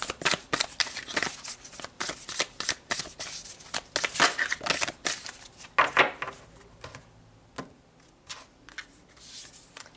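Tarot cards are shuffled by hand close up, in a rapid run of crisp riffles and slaps that keeps going for about ten seconds with no voices.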